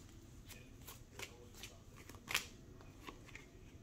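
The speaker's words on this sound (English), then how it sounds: "Let me shuffle this deck one more time." A tarot deck being shuffled quietly, a soft run of papery riffles and flicks with one sharper snap near the middle.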